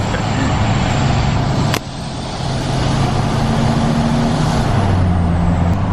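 A truck with its emissions equipment deleted rumbles steadily up close, a deep, loud engine and exhaust drone that dips briefly before swelling back, with no voices.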